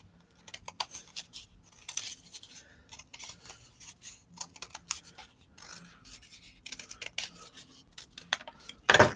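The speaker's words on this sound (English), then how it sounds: "I cut out this huge shape, but you gotta let your scissors do what they're gonna do because this cardboard kind of takes" Scissors cut through thick cardboard to free a large craft shape. Irregular clusters of crisp snips and scratchy crunches come close up and fairly quiet, separated by short pauses, with one louder scrape at the end.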